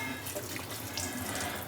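Tap water runs steadily through a water-saving faucet nozzle while a plate is washed under it, a continuous close hiss without talk.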